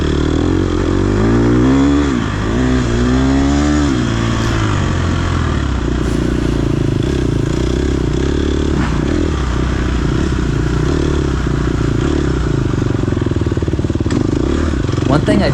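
An off-road racing motorcycle's engine buzzes loud and close as the rider flips the throttle, with a rising rev burst early on before a steady, rough drone with clattering.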